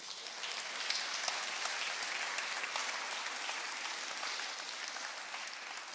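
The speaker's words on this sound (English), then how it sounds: "Give the Lord a clap of praise." A congregation at an Easter Sunday church service claps in praise, a continuous wash of many hands at moderate distance, sustained evenly for several seconds.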